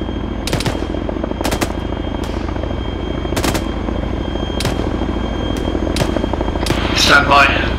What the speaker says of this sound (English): Stand by to get on that chopper as soon as it's portable. Those rotors are good.